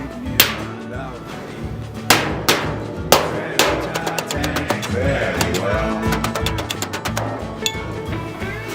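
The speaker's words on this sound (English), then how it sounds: "I'm going to push up on the low spot, hammer on the high spot." Sharp hammer blows ring against the sheet steel hood of a 1961 Chevy Apache during dent removal, first a few spaced strikes, then a rapid run of taps, close and loud.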